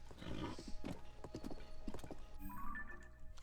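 A horse in the game Zelda: Tears of the Kingdom clip-clops along with a rapid run of close hoof knocks, then whinnies briefly at the end, moderately loud over light background ambience.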